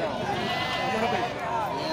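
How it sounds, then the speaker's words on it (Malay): Sheep and goats at a busy livestock market before a festival bleat in dense, overlapping calls against a constant crowd murmur and talk. "Juga menyediakan kambing dan domba."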